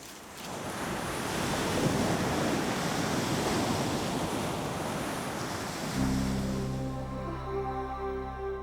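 Ocean surf rushes and roars steadily against the shore, with wind gusting across the microphone; a low tonal hum creeps in near the end.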